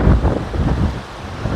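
Wind blows outdoors and buffets the microphone, making a steady low rumble with gusts that swell and ease throughout.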